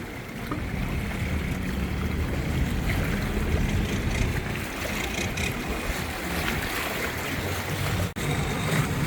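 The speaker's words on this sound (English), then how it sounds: "And there goes the tourist boat, the hop on," A tourist boat engine on a river in Bangkok drones steadily over broadband water and wind noise, continuous throughout, with no one speaking.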